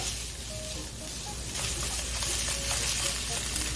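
Ham strips frying in oil in a pan, a steady close sizzle with light crackles and soft stirring scrapes throughout.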